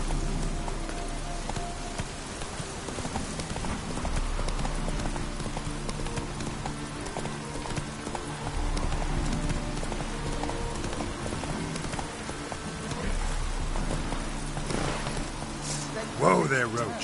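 Rhythmic clip-clop of the horse Roach trotting through a video game world, hooves beating steadily under spoken dialogue with a soft rain-like hiss behind.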